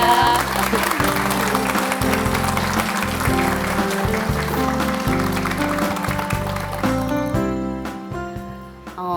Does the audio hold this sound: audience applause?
yes